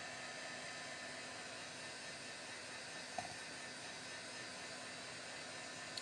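A hair dryer blows steadily on wet paint on an artwork, a continuous broadband whoosh that stays even and fairly close for the whole stretch, with a faint click near the middle.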